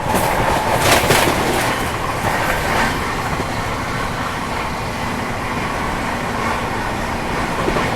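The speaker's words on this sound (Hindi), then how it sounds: "तो अभी ट्रेन ऑलमोस्ट 110 की रफ्तार में चल रही है" Vikramshila Express running at about 110 km/h, a loud steady rumble of wheels and carriage with rhythmic clickety-clack, heard from inside the train and continuous throughout.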